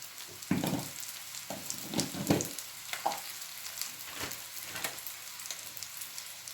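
Chopped shallots frying over low heat with coriander and spices in a pan for a Kerala mutton curry, a steady close sizzle and crackle with a few louder bursts as the mixture is stirred.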